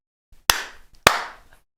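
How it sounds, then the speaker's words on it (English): Two loud, sharp hand claps about half a second apart serve as recording sync marks. Each is close and punchy with a short ring of room reverb, and faint small noises sit between them. "Clap coming up. Okay, clap."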